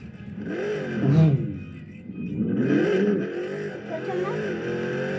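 A buggy engine in the Beach Buggy Racing video game revs and whines in rising and falling bursts, with loud surges at the start and middle, while a person talks over the game sound.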